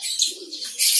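A caged diamond dove gives a short, close, soft coo, with brighter airy chirping noise around it.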